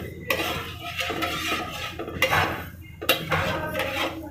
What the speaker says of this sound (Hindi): चीनी घुलने तक इसको अच्छे से चलाएंगे।